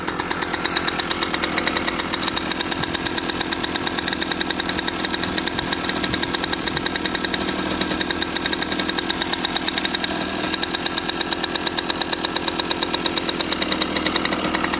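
Aprilia RX50 motorbike with a Dellorto PHBG carburettor, its cold two-stroke engine running to warm up, a loud, steady buzzing idle with a fast rhythmic pulse throughout.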